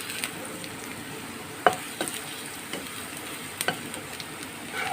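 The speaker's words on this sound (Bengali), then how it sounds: "আমি এই যে রসুনটা দিয়ে দিয়েছি, রসুনটা একটু ভেজে নিচ্ছি।" Garlic and onion frying in a pan: a steady, fairly quiet sizzle runs throughout, broken by a few sharp clicks and scrapes of stirring, with no voices.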